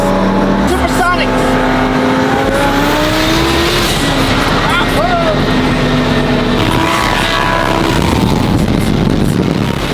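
A twin-turbo Lamborghini Huracán accelerating hard on a Houston street, a loud roaring engine climbing through gears with rising whine and brief tire squeal, very close and dominant, while excited voices shout over it.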